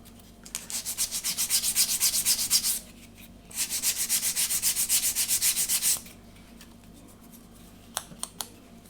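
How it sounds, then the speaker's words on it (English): A sanding stick rubs a small wooden part of a Vanguard Models HM Sherbourne ship model in two quick, rhythmic back-and-forth bursts of scratchy strokes, close up, followed by a few light taps. "sanding stick or your sandpaper on a sanding block, and just get that nice and straight and smooth."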